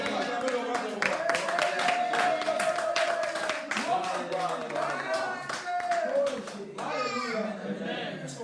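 Church congregation clapping steadily in rhythm through a worship song, with singing and voices carrying over the dense, continuous claps.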